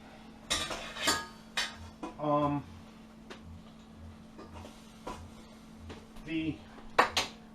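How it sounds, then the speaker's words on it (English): A metal cooking pot clanks and rattles on the stovetop as butter and olive oil go in to start a chili, giving a few close, bright clinks and scrapes, with pauses between them. "Starting my pot, I am going to put some butter in and olive oil in it"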